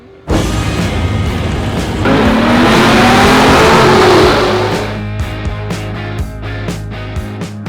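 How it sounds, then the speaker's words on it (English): Pro touring muscle cars, older cars rebuilt as modern performance machines, race against the clock at Holley LS Fest in Bowling Green, Kentucky, with a loud V8 roar bursting in, sustained high revving, then a fading pass with crowd-like background noise. "They're older cars that have been transformed into really modern muscle machines, pro touring vehicles, and they're over there racing against each other against time."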